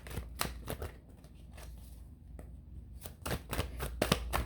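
A tarot card deck is shuffled up close, giving sharp riffling bursts and soft shuffling with short pauses between them, louder near the start and again near the end.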